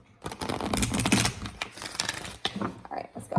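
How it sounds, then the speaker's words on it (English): A deck of tarot cards being shuffled, a run of quick crisp riffling snaps and flutters close to the microphone, with brief pauses between bursts. "Let me just do one good shuffle."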